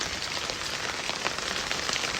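Steady heavy rain pours down during Godavari river flooding, a dense even hiss of drops on surfaces, loud and continuous with no voices.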